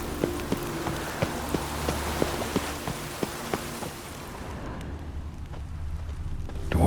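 Rain in The Witcher 3 video game makes a steady hiss with a few sharp, spaced taps, then thins out and grows quieter partway through, with no voices.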